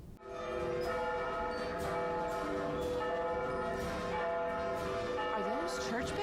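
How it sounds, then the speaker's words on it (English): Church bells ring continuously, with overlapping sustained tones rising and falling at a moderate distance. "Are those church bells?"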